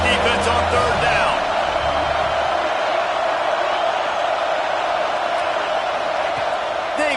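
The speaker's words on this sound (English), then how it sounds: "Decibels rising as the crowd gets behind this defense on third down." A packed college football stadium crowd roars through a third-down defensive play in the SEC, a dense, sustained wall of cheering and whooping that stays loud throughout while an announcer talks over it.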